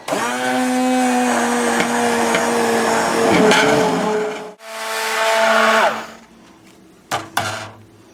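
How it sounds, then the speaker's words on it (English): A steady, loud motorized whir of an immersion blender running continuously through butternut chicken soup, briefly stopping and restarting, then a few clunks at the end. "we're going to process this with our immersion blender"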